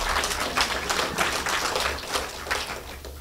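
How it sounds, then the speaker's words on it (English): Sermon congregation clapping in a continuous, moderately distant round of applause, steady and diffuse with small swells, no voices over it. "If you're going to clap, clap."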